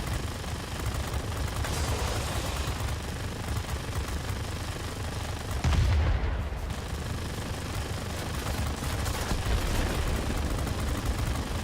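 Sustained machine-gun fire from a Tier X North American F-86A Sabre jet fighter in World of Warplanes, a dense unbroken rattle over engine roar that holds steady for many seconds.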